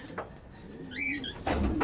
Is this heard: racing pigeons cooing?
yes